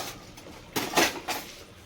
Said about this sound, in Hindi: तो अभी चलती हूँ बाहर और ये सारे क्लीन कर लेती हूँ बर्तन